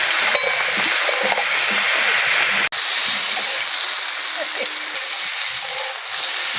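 Tomatoes frying with salt and turmeric give off a steady broadband sizzle, and the pan is stirred now and then, with one brief break partway through.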